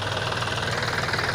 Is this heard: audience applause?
no